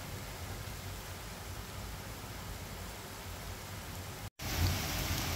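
Hail patters against a house window during a sudden hailstorm, a dense continuous hiss of tapping heard from indoors, broken by a brief gap near the end.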